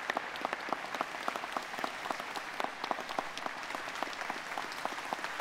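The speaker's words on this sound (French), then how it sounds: "on peut l'applaudir très fort" A crowd at a mayors' event on disability applauds steadily and energetically, a continuous wash of many hands clapping at once, with individual sharp claps standing out throughout.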